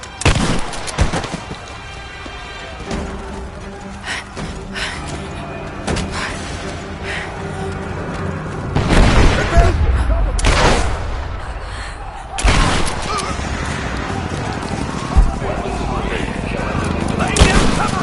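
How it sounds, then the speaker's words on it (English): Gunfire in the Rise of the Tomb Raider video game during a firefight at the edge of a village, with heavy booming shots and bursts that swell loudly around 9 and 12 seconds over a constant rumble, with voices speaking throughout. "We're under fire at the edge of the village."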